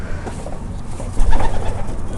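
Racing pigeons in a loft, a short-distance ace stock bird among them, coo in low soft bursts, growing louder near the end, with no voices over them.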